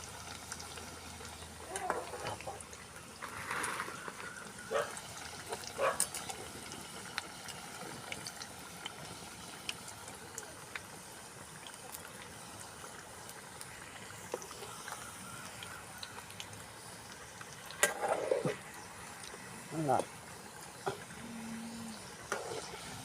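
Paniyaram cooks in a pan with a faint, steady frying sizzle, broken by occasional clinks and louder bursts, with some talking partway through.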